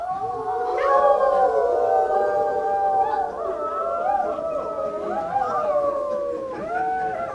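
Several young voices imitate wolf howls together, long overlapping wavering cries that rise and fall for several seconds.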